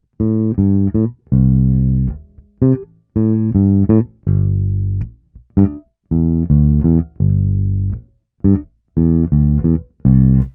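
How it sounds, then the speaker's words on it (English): Funky Motown-inspired blues bass line on electric bass, a one-bar riff repeated several times: loud, close, punchy plucked notes in a syncopated rhythm with short gaps between phrases, no talking. "let me take apart the fundamental bass line which is running through this"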